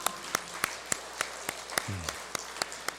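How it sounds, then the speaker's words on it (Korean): A single person claps slowly and evenly during a Korean Sunday church service, about a dozen sharp, close claps at a regular beat, with a brief murmur partway through and no crowd joining in. "박수 한번 하시죠"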